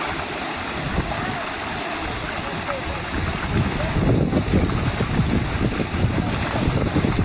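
Amboli waterfall near Sawantwadi roars as gusts of wind blow its water back upward, a steady broadband rush mixed with buffeting wind noise that swells louder midway.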